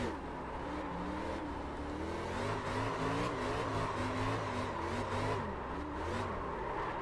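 A car engine revs and whines steadily while drifting in the iRacing sim, the pitch rising and falling with throttle control in a continuous loud drone with no talk over it.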